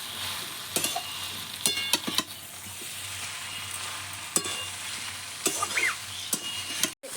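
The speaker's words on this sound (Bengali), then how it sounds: "আলুটা ভালো করে কষিয়ে নেব।" Grated potato being sautéed in a pan for a sandwich filling, a continuous sizzle broken by sharp spatula scrapes and clicks at irregular intervals, close and fairly loud with no talk.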